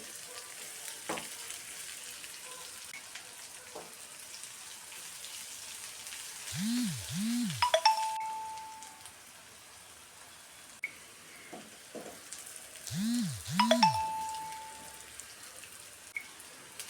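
Soya chunks fry in hot oil in a pan as they are stirred, giving a soft, steady close sizzle with occasional light clicks and scrapes and a few faint chirping tones behind.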